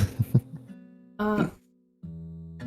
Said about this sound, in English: I was just kind of clearing my throat a little bit